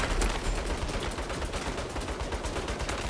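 Turret gunfire rattles in the Saints Row video game, a rapid, continuous burst of automatic shots at close range, loud and dense with no voices over it.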